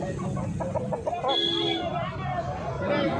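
Roosters and hens at a country chicken market in Nallapadu, with clucking and a short crow among crowd chatter and nearby talk, close and fairly loud.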